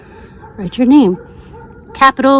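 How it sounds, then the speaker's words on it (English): Dogs bark and yip in the background of an indoor drawing lesson, with a few short bursts and whimpers heard under a person speaking. "Sorry about the barking dogs in the background."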